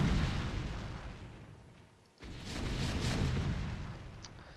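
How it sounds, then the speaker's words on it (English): A command center collapses in a StarCraft match, with rumbling, booming explosions that swell, dip briefly into quiet, then roar again in a dense burst of blasts. "So that command center goes down."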